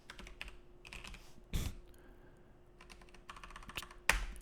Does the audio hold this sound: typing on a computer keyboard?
yes